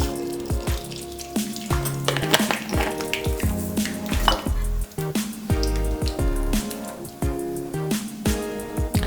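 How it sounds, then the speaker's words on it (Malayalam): Mustard seeds pop in hot oil with a steady crackling sizzle, dense rapid pops and occasional louder spatters, close up and continuous. "എണ്ണ ചൂടായിട്ടുണ്ട്. ഇതിലോട്ട് നമുക്ക് കടുക് ഇട്ട് കൊടുക്കാം."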